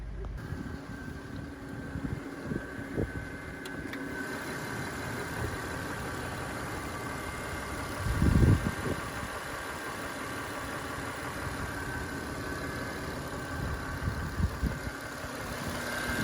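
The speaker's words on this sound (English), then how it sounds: "And at idle in park, she's running really good." Steady low hum of a 2000 Toyota 4Runner with the 5VZ V6 engine idling in park, quiet and even throughout, with a brief louder thump near the middle.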